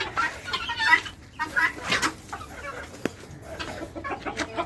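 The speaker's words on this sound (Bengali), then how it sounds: "এই মুরগিটা বিরক্ত করতেছে" Close, agitated clucking from a chicken in a farmyard, several sharp squawks and stuttering calls over about five seconds amid handling noise.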